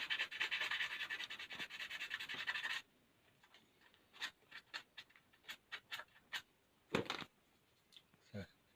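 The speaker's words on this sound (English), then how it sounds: "it's minimal sanding." Emery paper backed by foam rubber scrubs a UV putty model in a steady, close, scratchy rasp for a few seconds, then gives way to sparse light scratches and ticks.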